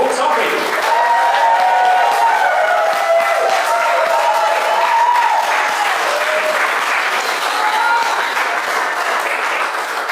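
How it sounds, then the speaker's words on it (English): A stand-up comedy crowd gives a big, sustained round of applause with scattered cheers, filling the room at a loud, steady level. A host's amplified voice rings out over the clapping. "Are we ready to start a big round of applause starting over here?"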